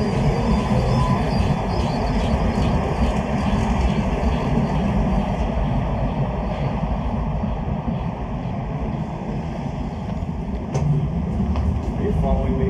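Old tram passing along a street in Riga, a steady loud rolling rumble with faint metallic squeal, mixed with a voice talking over it.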